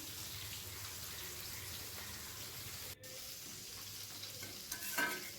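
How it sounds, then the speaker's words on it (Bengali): Bora fritters frying in a small black iron kadai, a steady, quiet hiss of bubbling oil with a brief dropout and a faint clink near the end. "এই কড়াইটার মধ্যে আমি বড়াগুলো ভেজে নিচ্ছি"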